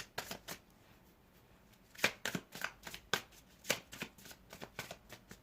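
Tarot cards are handled and flipped close by in a steady series of soft, crisp flicks and riffles, some slightly louder taps standing out, with no talking.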